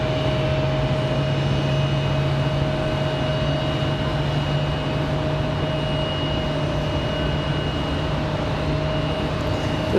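A Republic Airways jet at Raleigh Durham airport on a windy day produces a loud, continuous engine roar with steady whining tones that hold unbroken for the whole stretch.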